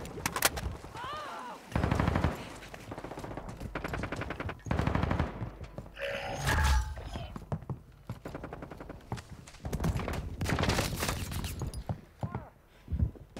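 Gunfire in an online shooter video game comes in rapid automatic bursts and scattered shots, loud and near, separated by short pauses, while players talk over the action.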